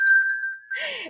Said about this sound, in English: And I got to ring this bell.